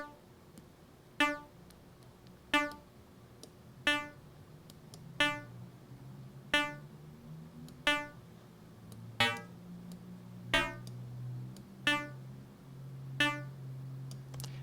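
A synthesized snare drum from Massive, its oscillator phase modulated on each attack, hits in a steady slow loop of about eleven sharp bright strikes with ringing tonal tails over a low droning hum.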